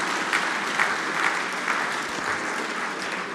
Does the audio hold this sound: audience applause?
yes